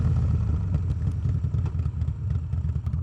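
A custom Harley-Davidson Dyna Street Bob with a 6-speed gearbox rumbles heavily while riding, its deep, pulsing V-twin exhaust loud and close with no break.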